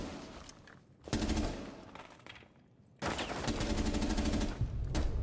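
Automatic gunfire in the video game Rainbow Six Siege comes in two dense bursts of rapid shots, loud and close, separated by a quieter stretch.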